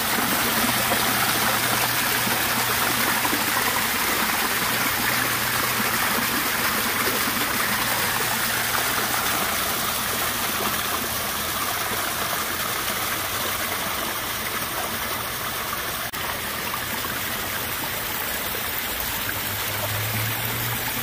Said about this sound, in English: Look how clear this gentle flowing stream is.